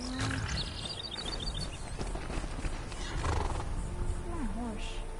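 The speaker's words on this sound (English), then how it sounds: "Wait, is that my horse?" A horse in the game Skyrim whinnies and clip-clops on hooves amid game ambience and background music, fairly quiet, with a voice talking over it.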